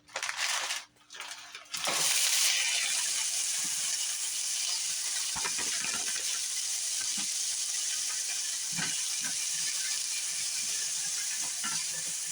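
Frozen whole kernel sweet corn hits hot olive oil with a sudden loud, steady hissing sizzle that carries on after a few brief clattering knocks at the start, with faint occasional taps beneath.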